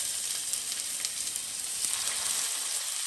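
Turkey burger patties sizzle in an oiled, preheated large non-stick pan, a steady, moderately soft hiss with faint crackles throughout and no talking.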